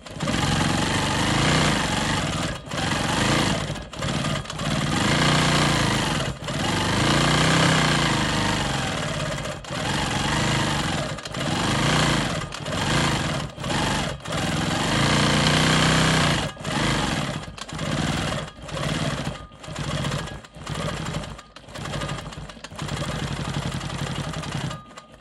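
A Quilt Maker Pro 20 quilting machine stitches smoky swirls through a quilt block, a buzzing motor hum that surges and pauses repeatedly, with sharp brief cutoffs between runs.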